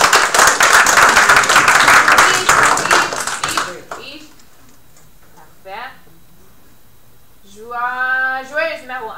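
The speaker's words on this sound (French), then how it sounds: "on peut applaudir." Audience at a school improv match clapping in a dense burst of quick applause that stops abruptly, followed by quieter moments and then people speaking.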